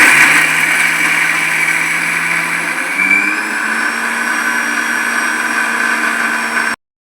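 A kitchen mixer grinder whirs loudly while grinding dosa batter, a continuous motor drone that shifts pitch slightly partway through, then cuts off abruptly near the end.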